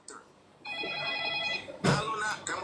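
A telephone rings with a steady tonal ringtone for about a second, then loud voices speak over it in a lively indoor comedy skit.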